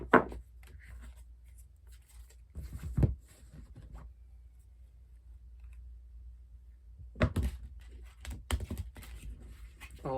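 Tarot cards being shuffled by hand, soft papery riffling bursts in two spells separated by a quiet stretch, close and fairly faint with no talking.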